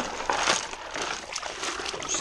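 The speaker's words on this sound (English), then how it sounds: "Now I need to wash this over here with some water" Water sloshes and splashes over gold-panning material at Slaty Creek, a short, close run of irregular swishing and trickling with no talking.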